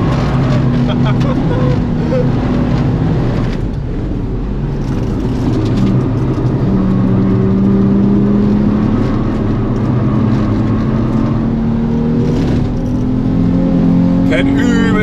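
A car engine drones steadily while driving a lap on a track, its hum running the whole time beneath people talking.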